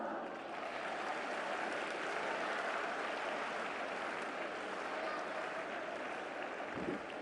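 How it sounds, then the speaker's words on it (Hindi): Steady, dense applause from a large crowd at an outdoor flag march rally, sustained evenly throughout at a loud, uniform level with no break. "तालियों के साथ।"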